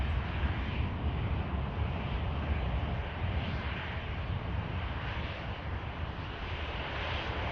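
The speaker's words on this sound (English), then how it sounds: "Next aircraft to touch down, KLM, A321neo" A KLM Airbus A321neo touching down at Manchester Airport, a steady distant jet roar with a broad rushing wash that holds evenly throughout, no voices.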